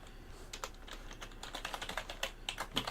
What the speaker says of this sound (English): My typing might be a little rough today